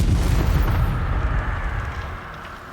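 A Confringo blasting spell explodes in Hogwarts Legacy, a heavy deep boom with a rumbling tail that slowly fades away, with no voices.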